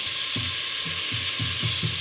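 Ingredients for momos frying in a pan, a continuous bright sizzle with a series of soft rhythmic stirring knocks, close and steady without talk.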